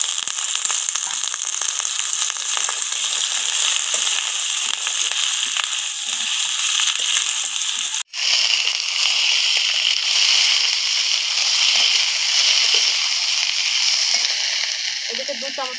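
Cut potatoes and Malabar spinach stalks fry in a pan for a Bengali chorchori, giving a steady, loud sizzle throughout, with a brief dropout midway before the crackling resumes.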